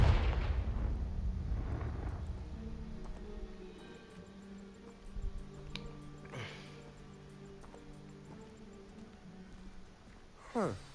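A Confringo spell blast bursts through piled rubble in Hogwarts Legacy, a loud booming impact at the start fading into rumbling debris and quieter ambient tones, with a short sharp hit near the end.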